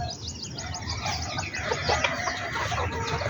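Bantam chickens cluck and chirp close by in a busy, overlapping chorus of short calls over a constant background murmur.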